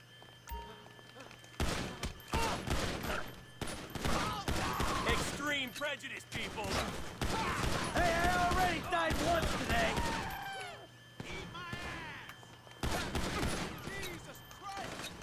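Bursts of gunfire in Grand Theft Auto 5, rapid automatic machine-gun shots in clusters with short pauses, loud and close, mixed with game effects and other sounds.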